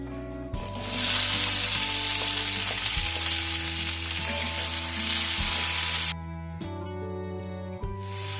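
Onion, garlic and tomato fry in a pan for a South Indian sambar, giving a steady, close sizzle with a brief dip and a few stirring knocks against the pan, and no voices.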